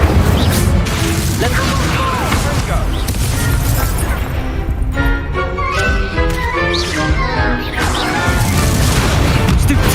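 Incendio fire spell cast in the Hogwarts Legacy video game: a loud burst of crackling, crashing magic effects that fills the whole stretch, layered with game sounds and a voice calling out over the action.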